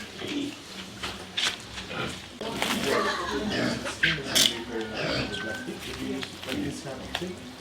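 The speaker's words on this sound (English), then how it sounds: "And this pig will be slaughtered after" A roughly 150-kilogram pig destined for Balinese babi guling squeals and grunts in bursts at close range, mixed with people talking and background commotion.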